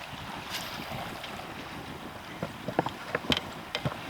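Wind picks up beside a creek in Alaska, a soft, steady rush with a few gusty buffets and thumps near the end.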